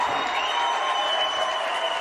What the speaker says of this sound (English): the crowd again coming to their feet